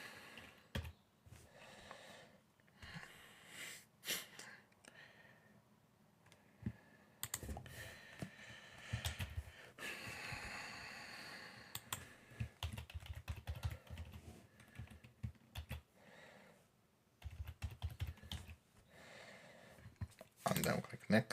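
Keyboard typing on a computer during account setup comes in short irregular bursts of clicks, with pauses and occasional louder clusters, while a person talks intermittently over it.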